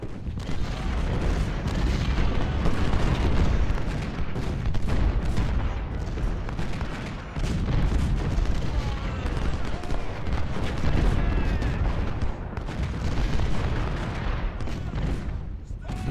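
Rifle and artillery fire rage in Ultimate General: Civil War during a Confederate campaign battle at Fredericksburg: an unbroken, loud din of crackling musketry punctuated by deep cannon booms, sustained at an even intensity throughout.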